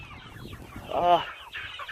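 Chickens cluck in an outdoor pasture on a small farm, a short burst of close hen vocalizing amid soft background noise and rustling.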